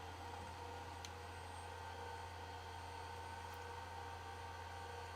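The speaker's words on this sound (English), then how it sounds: "Generator turns on." A TCS WOW sound decoder in an HO scale Overland Models steam locomotive runs its generator: a steady, even hum with a faint whine that holds unchanged throughout, with no talk.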